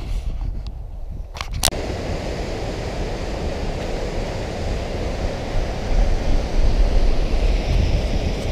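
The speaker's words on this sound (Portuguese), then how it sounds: "Não via cachoeiras. Essa aí tá bem bonita. Muita água." Full, steady roar of a waterfall with heavy flow in a Sierra Nevada national park canyon, a dense unbroken rush of water close by that swells slightly louder toward the end.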